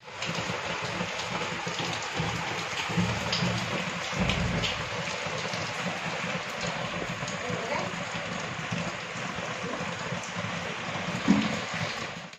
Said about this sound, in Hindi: सुबह से बारिश हो रही है, दिखाता हूँ।